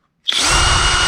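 A drill bites into a carburetor gasket held on a backing piece during New Holland carb repair, a sudden close whine that starts abruptly and holds steady.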